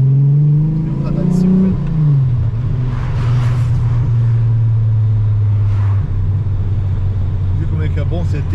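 A six-cylinder VW Golf engine revs hard close by, a deep steady drone that climbs briefly at the start and then holds a loud, sustained pitch, with a voice speaking over it partway through.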